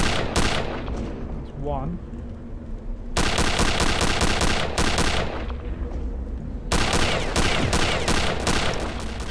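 Rapid bursts of automatic gunfire in the retro shooter Return to Castle Wolfenstein, loud, dense volleys near at hand, broken by short pauses, with someone speaking briefly among the shots.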